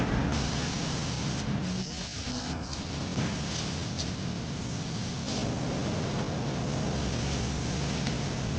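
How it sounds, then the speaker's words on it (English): A continuous hiss of a paint spray gun applying car paint on an Audi A6 runs steadily and loudly, with slight dips and changes in pitch as it moves. "Paint ready. Let's begin spraying."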